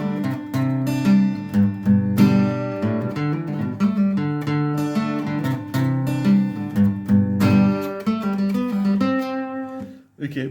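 Electric guitar playing a pentatonic rock riff picked in a steady, bright melodic pattern with ringing notes, loud and close, with no talking.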